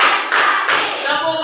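In a classroom clapping game, sharp claps land in quick bursts close to the listener, three distinct groupings in a rhythmic pattern, with children's voices mixed in.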